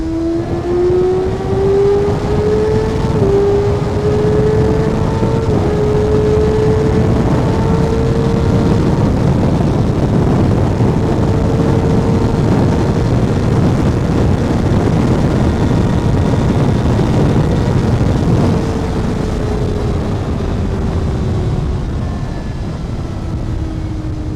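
A Kawasaki ZX6R motorcycle rides along at a steady, loud engine hum, with the pitch rising and shifting gradually through long gear holds, under constant wind rush and with no talk.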